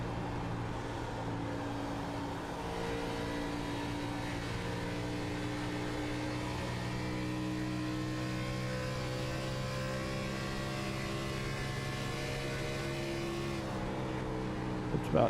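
A race car engine in iRacing, at Atlanta in an Xfinity Series race, holds a steady high-rpm drone that shifts slowly in pitch as it rolls through a turn, loud and constant throughout.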